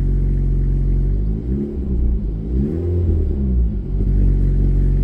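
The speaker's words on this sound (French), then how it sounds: "Et si on met un tout petit peu de gaz" An Alpine A110S sports car engine idles with a steady low rumble, then gets light dabs of throttle that raise the pitch in two or three short, gentle revs before settling back, close and loud.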